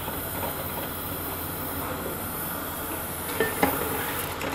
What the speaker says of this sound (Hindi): मीडियम टू हाई हीट पे हम इसको 3 से 4 मिनट के लिए भूनेंगे।